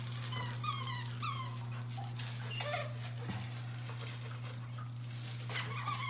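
A dog whimpers and whines in thin, high squeaky cries, several short bursts near the start and again at the end, over a steady electrical hum.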